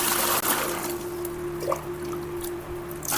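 Water poured from a container into another vessel while mixing a liquid batch for homemade orange soda, a continuous close splashing trickle with a faint steady hum underneath.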